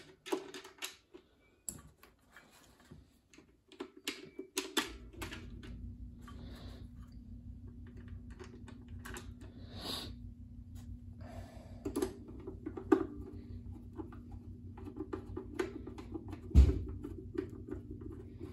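Screws being driven by hand into the panel of an Ovation instrument: quiet scattered ticks and clicks over a low steady hum, close and faint.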